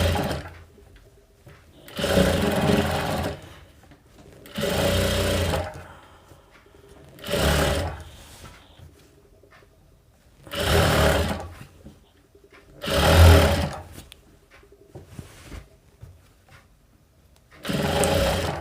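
A sewing machine stitches piping onto a princess cut blouse in repeated bursts of about a second each, with short pauses between runs, close and steady.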